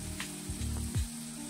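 Potatoes frying in a pan for a Bengali chickpea ghugni dish give a steady close sizzle, with a few brief stirring scrapes over the crackle.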